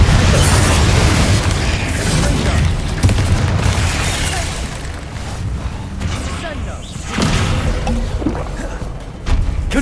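Several Confringo explosive spell blasts in Hogwarts Legacy boom loudly one after another, with deep rumbles and bursts over busy game combat noise and a voice speaking over it.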